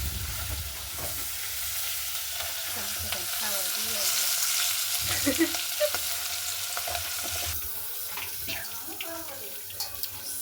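Sev tomato curry being tempered in hot oil, a continuous loud frying hiss throughout with a few faint clinks and brief background voices.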